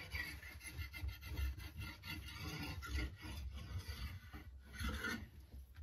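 Wooden tool handle being burnished by hand, a steady, close rasping rub with repeated strokes and no talk.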